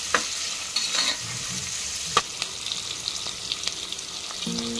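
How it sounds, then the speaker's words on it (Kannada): Onions fry in a hot pan with a soft continuous sizzle, punctuated by scraping clicks and taps of a spoon stirring them, close and fairly quiet. "ಈರುಳ್ಳಿ ಚೆನ್ನಾಗಿ ಫ್ರೈ ಆಗಬೇಕು."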